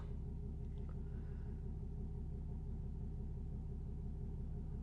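A vehicle engine idling after being started, heard as a steady low rumble and throb held at an even level with no voices.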